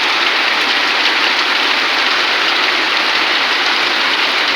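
Steady, heavy rain pours down continuously, a dense, even hiss close at hand with no voices or other sounds over it.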